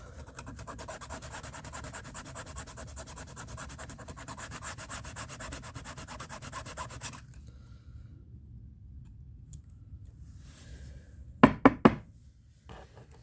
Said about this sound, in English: the advantage of filing it down like this is everything is going to be really smooth once it's done